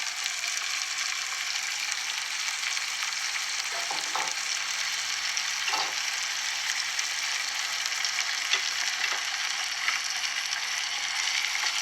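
Ginger paste frying in a pan, a steady, dense sizzle throughout with a few faint stirring scrapes underneath.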